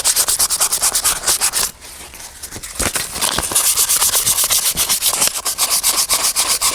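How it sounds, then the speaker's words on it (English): Sandpaper scrubs surface rust off the metal of a Midway Pac-Man Cabaret mini arcade cabinet in quick, rhythmic rasping strokes close by, pausing briefly before resuming at a fast steady pace. "I think I'm going to take some sandpaper to this and just get this surface rust off of here"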